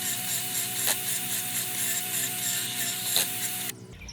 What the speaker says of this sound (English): I'm going to drill the hole first